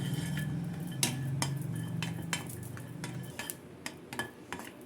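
Curry leaves roast in a pan while a utensil stirs them, making a run of crisp scraping clicks and taps against the metal over a low, soft sizzle. The sounds are fairly close and there is no talk.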